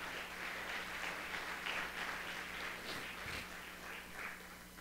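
Steady applause from a congregation at a religious service, a continuous wash of clapping at moderate level with no voices over it.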